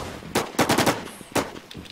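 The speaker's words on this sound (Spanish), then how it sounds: "Están disparando." Bursts of automatic gunfire in the DeadZ video game, a rapid volley of close, loud shots followed by a single short burst after a pause, with no talking.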